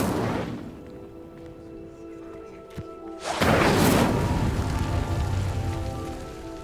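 Incendio fire spell cast in the Hogwarts Legacy video game, a sudden loud whooshing burst of flame that erupts after a quieter crackling stretch and keeps roaring steadily to the end.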